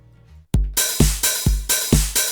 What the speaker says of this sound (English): We can spice it up with an offbeat open hat.